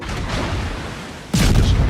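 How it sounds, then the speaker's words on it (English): Naval gunfire in the World of Warships video game, a dull booming salvo rumbling briefly and then a second heavier deep blast near the end, loud, no talk. "Now I'm firing on the Minsk."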